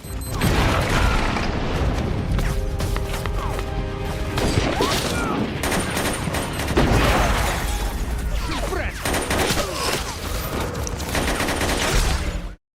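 Battle scene in an action film with bomb explosions and gunfire around a guard post, a loud dense barrage of booms and rapid shots filling the whole stretch with no pauses, mixed with crashing debris.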